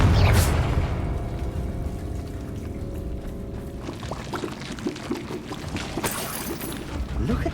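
Confringo blasting spell in the video game Hogwarts Legacy, a loud low boom that rumbles and decays over several seconds, followed by scattered crackling debris and a sharp burst near the end.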